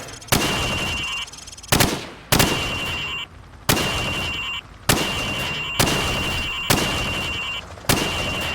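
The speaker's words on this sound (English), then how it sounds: "I want you to shoot the targets through the wood." Gunfire at pop-up targets set behind wood in a training range in the video game Call of Duty 4: Modern Warfare. About eight loud, sharp shots ring out at a steady pace, each followed by a ringing decay.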